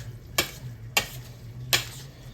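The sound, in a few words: stirring egg into homemade chicken dressing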